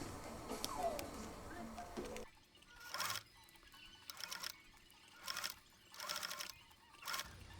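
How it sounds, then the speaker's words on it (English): A sewing machine stitches a cheap table mat strip into a hat in several short, whirring bursts separated by pauses, each run a few seconds long and close by, after a brief stretch of quieter background noise. "This time I'm making the circle gradually smaller, so I'm pulling the strip slightly as I sew."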